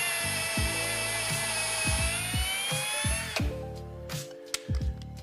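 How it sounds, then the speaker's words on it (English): A power drill bores a pilot hole into a wall stud, its motor whining steadily at high pitch with rhythmic low knocks, then winding down and stopping. "all we have to do is drill a pilot hole."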